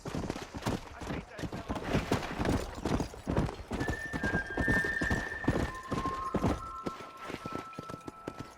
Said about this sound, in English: I'll show you how we ride around these parts. Giddy up!